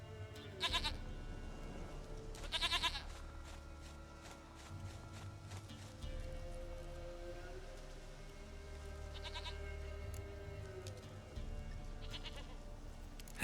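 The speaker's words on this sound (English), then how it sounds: "Goat of mine, dearest, sweetest goat." Short bleats from a goat in The Witcher 3 sound in brief bursts near the start and again later, set against a low game background with soft movement sounds.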